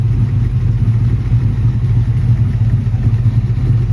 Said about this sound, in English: I have tuned the car with the HP tuners, so you can see it's idling very nicely at 750 RPM